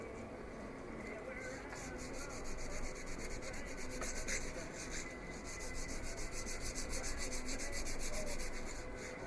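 Abrasive paper at 220 grit, wrapped on a flat stick, scrubs back and forth along a steel Bowie knife blade, a steady close rasping rub with quick regular strokes throughout.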